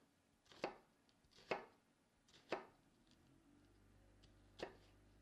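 A knife cuts through a halved onion on a cutting board in four distinct, evenly spaced chops, close and fairly quiet with a faint hum between strokes.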